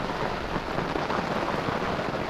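Heavy rain pours outdoors in a remote Indonesian village, a steady dense hiss of drops hitting surfaces, constant and moderately loud with no voices.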